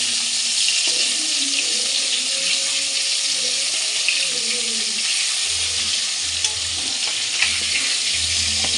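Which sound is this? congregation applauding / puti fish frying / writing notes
puti fish frying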